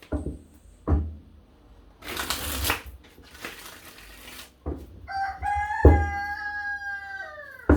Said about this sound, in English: Do you like my rooster?